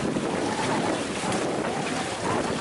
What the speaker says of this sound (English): Perfect winds for sailing.